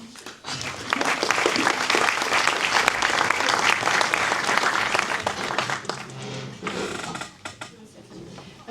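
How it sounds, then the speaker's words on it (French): An audience at a business event on reindustrialisation in Béziers breaks into a strong round of clapping, loud and sustained for several seconds before tapering off, with some voices mixed in. "On peut l'applaudir."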